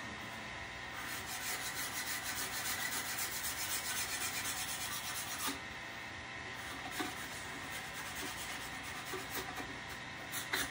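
Olive burl wood is scraped with a tool while it turns slowly on a lathe, giving a steady, continuous rasping whir with faint rhythmic ticks over constant workshop noise.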